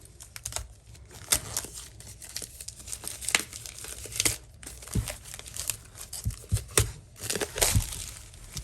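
Paper craft-kit packaging is torn and crinkled open up close, with continuous rustling, crackling and tearing bursts of uneven rhythm.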